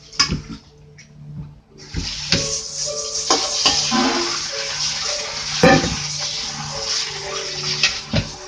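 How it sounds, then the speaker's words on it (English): Tap water running over sliced potatoes in a strainer, a steady close splashing rush with occasional clunks and knocks of handling throughout. "We're going to rinse them even more."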